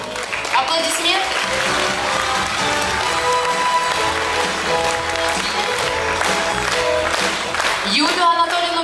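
An audience at a 2022 reporting concert gives sustained applause, a steady wash of clapping mixed with music throughout.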